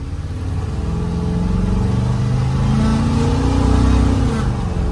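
A 1971 Chevrolet K-10 half-ton pickup with a 5.3 LS engine and a small single exhaust pipe revs steadily and loudly nearby, the engine note rising and holding for several seconds without speech.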